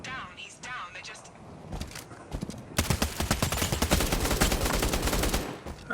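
Rapid gunfire from a video game, with blind fire in a shooter, crackles as dense bursts of shots that grow louder and steadier partway through, mixed with game sounds.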